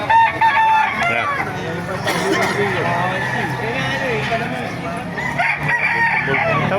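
Roosters crow loudly and repeatedly at a busy chicken market in Baliuag, Bulacan, amid clucking fowl and ongoing chatter from people nearby.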